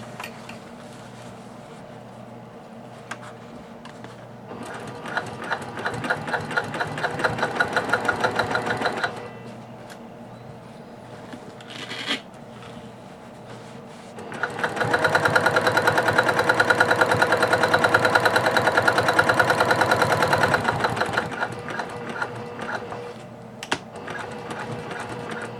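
A sewing machine stitches a beginner's beach tote bag in two sustained runs of steady, rapid mechanical whirring and clatter, with quiet pauses between them and fainter handling noises.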